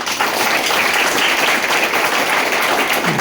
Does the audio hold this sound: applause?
yes